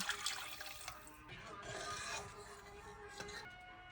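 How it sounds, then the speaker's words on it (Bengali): Water from a freshly rinsed jar splashes into a cooking pan of fried spices in short uneven gushes, close and fairly quiet. "ওই জারটা ধুয়েই জলটা দিয়ে দিলাম"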